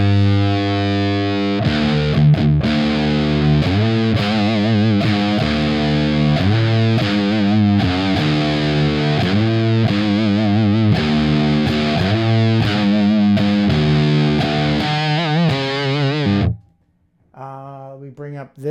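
A guitar amp's overdriven channel churning out a fat, thick distorted tone, chords ringing loud and continuous for many seconds before cutting out, then a short quieter strum at the end.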